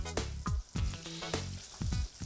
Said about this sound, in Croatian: Uvoljam ga u smjesu i odmah stavljam na vruće ulje.